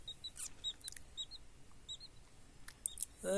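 Newly hatched chicks peep softly from an incubator, a few faint, brief high chirps scattered over a quiet background.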